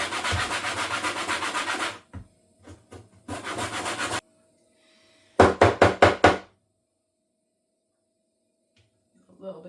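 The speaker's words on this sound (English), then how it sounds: "we're gonna zest them first. So I'm going to use the small part of the grater for this" Lemons are zested on the fine side of a grater, producing raspy scraping strokes in bursts: a long continuous run, short taps, another run, then a handful of quick separate strokes, close and clear.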